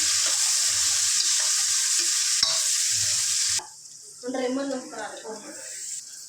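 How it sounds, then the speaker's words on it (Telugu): Green chillies and onions fry in a pan with a steady loud sizzle for the first half, giving way to softer stirring and scraping as a voice talks over it. "ఒక ట్వంటీ మిర్చి ఒక టూ ఆనియన్స్ వేసుకోవాలి ఓకే చక్కగా ఫ్రై చేసుకుందాం"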